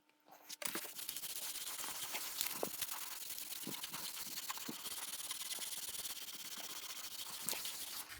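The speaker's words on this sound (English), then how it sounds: "I'm going to use a toothbrush just to get in all around gently and clean it up as much as I can" A toothbrush scrubs dust and grime from carved antique wooden decorations, giving a steady, soft, close-up brushing rasp with occasional small taps and no talking.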